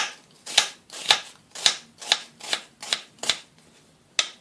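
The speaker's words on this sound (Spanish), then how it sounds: "al picar la cebolla ponemos los dedos hacia adentro, así con el cuchillo" A knife chops an onion on a cutting board in a steady series of about nine crisp, evenly spaced strokes, close and clear with no talking.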